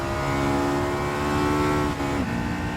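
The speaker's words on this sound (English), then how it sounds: "I love the engine sound." A race car in Gran Turismo Sport holds a loud, steady high engine drone, then the pitch dips briefly near the end as the revs fall and climb again.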